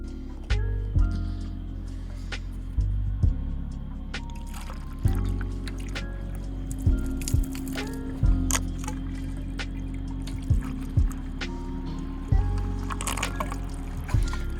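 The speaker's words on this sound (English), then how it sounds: "We'll fill all that up, and we will water on top as well." Water poured into the reservoir tank of a DIY self-watering bucket for growing tomatoes, a steady close splashing fill broken by repeated sharp clunks and knocks.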